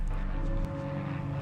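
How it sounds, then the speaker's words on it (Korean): An airplane overhead above a remote mountain wilderness, giving a steady droning engine hum with sustained tonal bands, fairly loud and even throughout. "이 소리는 분명 비행기 소리입니다."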